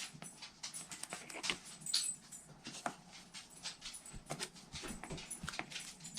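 A dog moves around a quiet indoor room with soft, faint pattering steps, light jingles and an occasional small whimper or snuffle, close but low.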